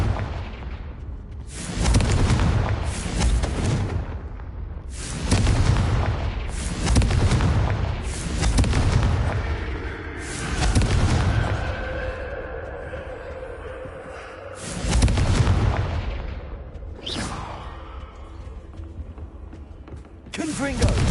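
Confringo blasting spells in the Hogwarts Legacy video game go off as a run of loud, booming explosions roughly every one to two seconds, with a spoken voice and mechanical clatter between some of the blasts.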